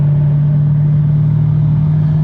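Nissan/Infiniti car engine running in drive sport mode during downshifts and upshifts, heard from inside as a steady, loud low drone with a firm hum and little change in pitch.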